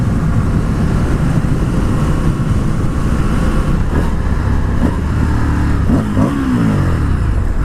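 A 2020 Indian FTR 1200 motorcycle engine drones steadily while riding, a loud continuous low rumble with brief throttle shifts and a rising tone near the end, carried alone without talk.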